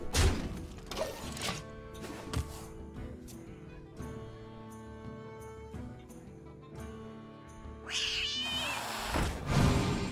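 A Black Cat card in the Hearthstone video game gives a cat meow and caterwaul among game effects, with music tones, thuds and a crashing burst near the end.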